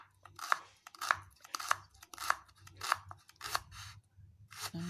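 Kitchen scissors snipping shallots for fried shallots, about eight crisp, close cuts in a steady rhythm roughly every half second, each with a short sharp snap, and no talking.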